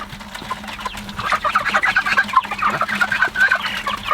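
Many meat chickens cluck and murmur together in a busy, continuous chatter. The flock sounds close, with overlapping soft calls and no talking.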